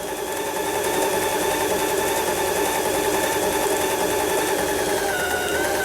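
A Lion 419s sewing machine runs a stitch, a fast steady mechanical whir and rattle, close and continuous for the whole span.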